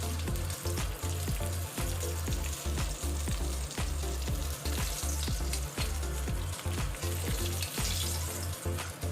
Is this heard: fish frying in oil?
yes